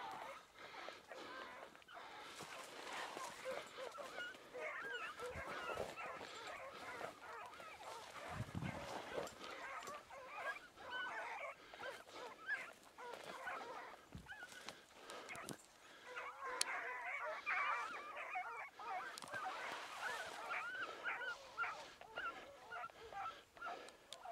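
Dogs at home barking and whimpering in an ongoing, fairly faint mix of yelps, whines and honking-like calls over about twenty seconds, with some human voice in the background.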